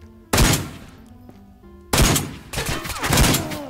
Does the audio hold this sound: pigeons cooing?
no